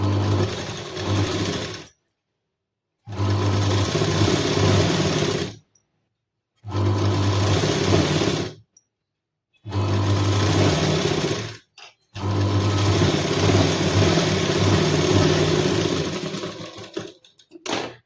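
A sewing machine stitches a tuck in a blouse in loud, close bursts of rapid mechanical whirring, stopping and restarting several times with short silent gaps.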